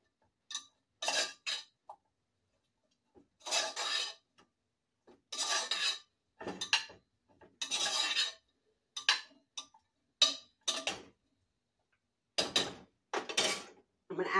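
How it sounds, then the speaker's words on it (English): Green beans with butter stirred in a pot for a Thanksgiving dinner, heard as repeated rough scraping bursts of a utensil against the pot, separated by short silences. "I'm going to add some butter to the green beans. Stir them nicely."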